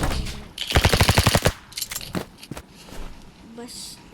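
Rapid gunfire from a gun in a video game, a quick burst of about ten evenly spaced shots, followed by scattered softer game sounds while someone talks.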